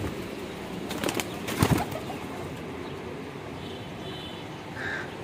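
Breeder pigeons in a loft give a brief flurry of wing flaps and low rustling, followed by faint soft cooing against quiet background noise.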